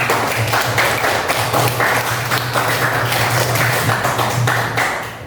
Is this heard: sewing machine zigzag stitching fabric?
no